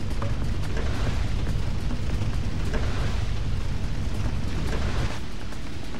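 A bomb goes off in the Asterix & Obelix XXL 2 video game on PlayStation 2, a loud sustained rumbling blast with crackling debris lasting several seconds before easing slightly.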